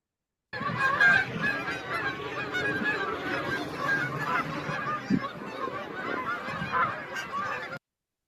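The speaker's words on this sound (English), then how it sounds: "that tremendous sound coming from those flock of Canada geese" A flock of Canada geese flying overhead gives a dense, continuous chorus of overlapping honks, loud and close, with no pauses for several seconds.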